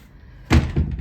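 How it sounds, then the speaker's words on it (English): Double doors of a hotel club-room bathroom swing open with a sudden loud wooden thunk, followed a moment later by a second softer knock as the other side moves, close and without speech. "double doors. And this one is a little bit awkward because there's this side of the door here"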